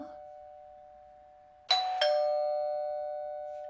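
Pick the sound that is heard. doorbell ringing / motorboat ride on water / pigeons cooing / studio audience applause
doorbell ringing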